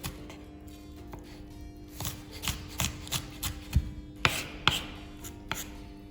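A knife chops onion on a cutting board in a series of sharp, irregular taps that grow more distinct toward the end, set against a low steady hum.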